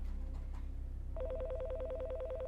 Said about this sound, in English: I almost missed the phone ringing.